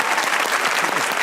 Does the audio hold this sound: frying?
no